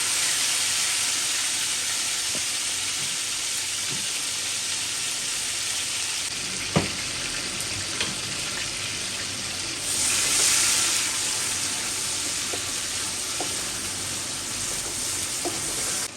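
Tomatoes and curry leaves frying in a pan give a dense, even hiss of sizzling oil that holds steady throughout, broken by a few faint clicks and a brief swell near the middle.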